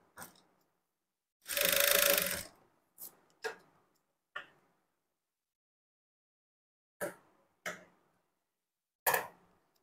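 A sewing machine runs one short burst stitching along the edge of a Poonam cloth blouse lining, followed by scattered light clicks and taps from handling the fabric in a quiet room.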